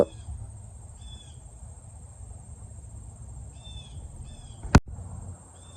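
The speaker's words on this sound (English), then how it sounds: "Just ignore the bird." A bird gives several short, high-pitched calls in a quiet room amid faint insect-like chirping, with one sharp loud knock near the end.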